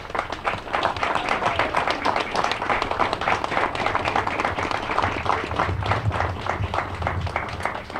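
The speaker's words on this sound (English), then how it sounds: "please stand for a round of applause and congratulations to each of you" Steady applause from an audience at a college graduation ceremony as Chancellor Award winners stand, dense clapping filling the room continuously and evenly throughout.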